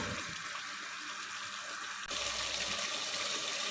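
Water pours steadily from a tap or jug into a beef paya cooking pot in a home kitchen, a continuous close splashing that shifts and grows slightly louder partway through, with no talk.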